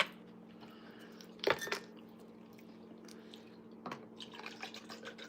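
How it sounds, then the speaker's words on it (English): Quiet, close chewing and crunching while eating Dave's Hot Chicken for lunch, with a couple of sharper crunchy bites standing out against soft background hum. "I'm going to start off by eating my lunch"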